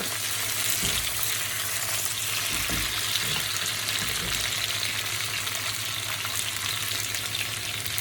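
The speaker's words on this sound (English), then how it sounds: "I'm going to start this on a fairly high heat. So stir frying. Gently toss." Vegetables stir-fry in a wok at high heat with continuous sizzling, with occasional scrapes and knocks of a spatula as the contents are tossed.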